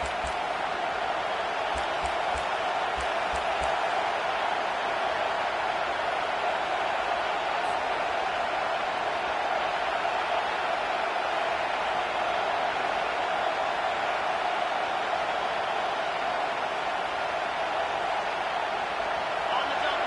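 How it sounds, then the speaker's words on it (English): Steady roar of a stadium crowd in a Madden football video game, cheering behind the defense on third down late in the game near the two-minute warning, a dense continuous wash with a commentator talking over it. "Decibels rising as the crowd gets behind this defense on 3rd down."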